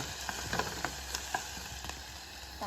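Garlic sizzling steadily in a hot frying pan for a pork, tomato and bok choy sauté, a continuous bright hiss with small crackling pops and a few light stirring clicks, close and without talk.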